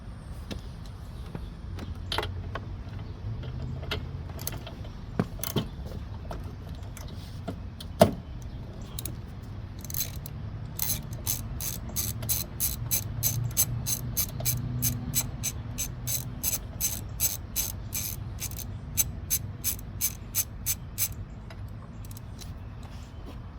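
Ratchet with a 13/16 spark plug socket turning out the spark plug on a Honda HRN216 lawn mower: scattered clicks and handling noises at first, then runs of quick, close ratcheting clicks in bursts.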